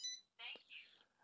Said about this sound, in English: you'd have heard the rising tone beep from the 1520 controller to acknowledge it was a valid read